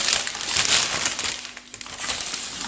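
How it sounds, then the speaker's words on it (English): Homemade vegan protein bars being cut into six pieces, giving a steady close crunching, crinkling texture with a brief quieter pause partway through. "Now we're gonna cut the bars."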